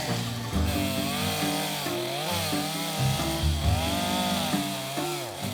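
A small chainsaw with a thin tip buzzes steadily while carving detail into wood, its engine pitch rising and falling as the blade works, loud and close with no voices.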